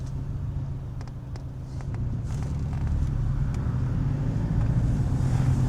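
A Porsche 718 Boxster GTS with PDK gearbox driving, heard from inside as a steady low engine drone with faint clicks early on, the engine note rising slightly as it pulls.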